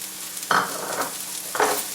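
Onion and chopped moringa leaves are sautéed in a pan, a steady background sizzle with two distinct scraping stirs from a spoon, close and clear.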